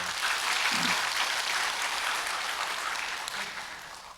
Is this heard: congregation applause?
yes